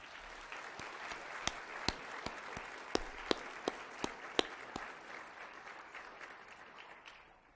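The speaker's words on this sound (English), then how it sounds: "Let's give them a big round of applause." Audience applause at an epilepsy wellness conference keynote, honouring armed forces veterans: a soft, steady wash of clapping from a crowd, with a few sharper claps standing out near the mic before it tapers off.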